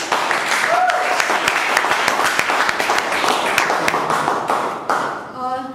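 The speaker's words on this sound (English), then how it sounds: "a round of applause for our president" An audience at a club meeting applauds in a dense, steady round of clapping that fades out near the end, where a voice begins to talk.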